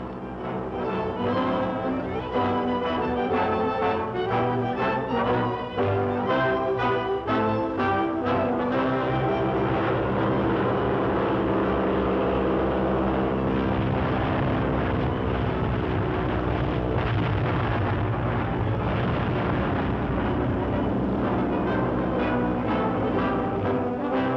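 A squadron of propeller airplanes drones overhead in a continuous loud, steady roar with layered engine tones that swell slightly as they pass, and no voices.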